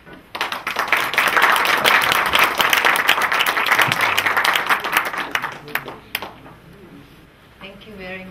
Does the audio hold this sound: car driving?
no